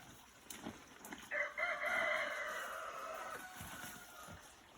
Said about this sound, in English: it's a cockerel you can hear